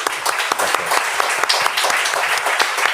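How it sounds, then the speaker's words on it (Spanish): Audience at a talk on end-of-life care ethics clapping for a speaker, dense, loud, continuous applause with many overlapping hand claps throughout. "recibe este aplauso"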